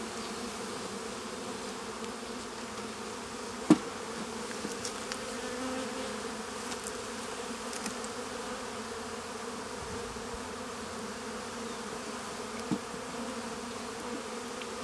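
Honey bees drone continuously at an open beehive, a close, steady buzzing swarm with a few brief knocks, and no one speaking.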